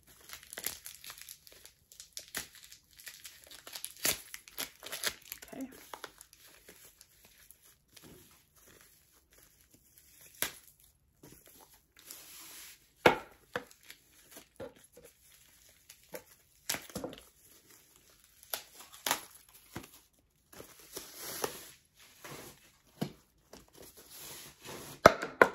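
A wrapped strap for an iPhone 14 Pro Max wallet case with gold details being unwrapped, with sparse, close crinkling and tearing of packaging in irregular bursts and quiet gaps, and no talking.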